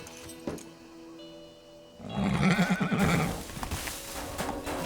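A horse in the video game Teardown whinnies loudly and close, a rising, wavering neigh after a quieter stretch of steady background hum.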